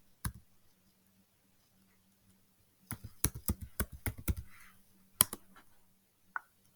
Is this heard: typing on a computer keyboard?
yes